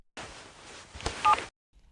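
Rapid series of phone keypad tones being dialed, close and moderately loud with no talking, a sharper burst near the end before the line goes quiet.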